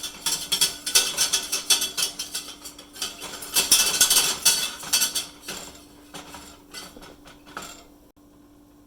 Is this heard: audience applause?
no